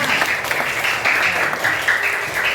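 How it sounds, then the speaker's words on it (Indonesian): Students in a classroom clap steadily for a group's presentation, a loud, continuous round of applause that fills the whole short stretch with no talk over it. "Kasih tepuk tangan untuk kelompok 5."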